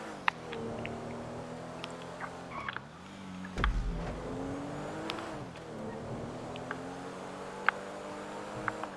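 A car engine in a GTA 5 online race revs and accelerates steadily, its pitch rising and dipping through gear changes, with small clicks and knocks scattered over the continuous drone.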